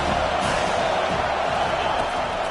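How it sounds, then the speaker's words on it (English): A dense, roaring stadium crowd cheers continuously at a Penn State college football game on third down, loud and sustained throughout without a break. "this crowd is tearing the lid off this place"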